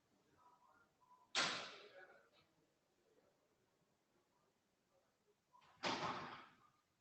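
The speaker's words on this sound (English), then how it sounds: "It's better to close the door." A door shuts twice in a conference meeting room, each a sharp thud with a brief rattle, several seconds apart, over a faint background murmur.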